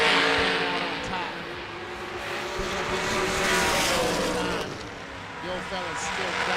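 Race cars including a Camaro hot rod tearing around a track, loud layered engine roars rising and falling as they pass close by, with an announcer talking over the noise.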